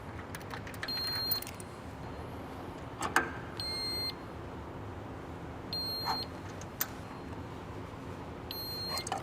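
An air motor position sensor alarm on a GED HMP-610 ADM sounds as short, high electronic beeps repeating in spaced clusters over a faint background hum, with no talk.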